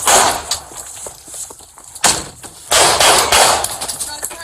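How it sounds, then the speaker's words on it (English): Loud, sharp bursts of gunfire ring out close by in a shootout between American police and a wanted fugitive, several shots spaced across a few seconds amid tense shouting. "Shots fired."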